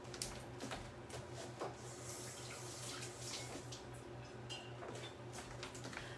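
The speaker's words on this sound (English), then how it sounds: "Now I'm going to rinse my hands." Hands rinsed under a running kitchen tap, a steady rush of water lasting the whole stretch, fairly faint and constant with a low hum behind it.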